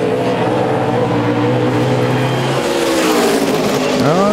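NASCAR Sprint Cup stock cars roar around the road course at Watkins Glen, one loud sustained engine drone shifting pitch before another car sweeps past with a falling whine, close and continuous.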